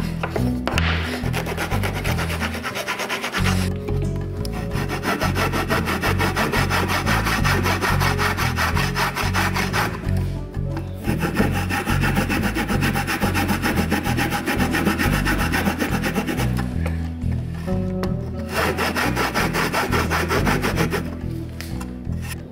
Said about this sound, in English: the process with a hacksaw blade, just to take the tips off those little bits and make it a little bit rounder